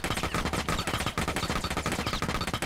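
Automatic gunfire in the shooter game Rainbow Six Siege while the player strafes left and right controlling recoil, a fast, steady stream of loud, close shots with no pauses.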